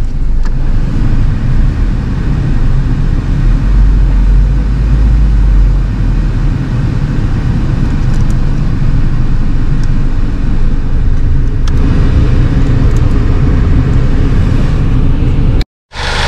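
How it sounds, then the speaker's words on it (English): A 2013 Ford Focus engine idles smoothly after a full service, giving a steady, low, even rumble with no shaking. It runs alone, close up, and cuts out briefly at the very end. "It's running smooth now. No shaking at all. Very quiet car."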